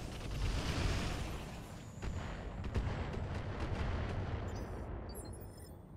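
Ground attack weapons fire in the mech game RogueTech, a dense barrage of booming blasts and rumbling impacts that gradually fades, with no talking.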